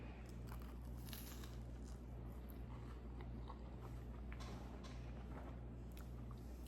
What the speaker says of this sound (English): I love how the toast is crunchy around the edges.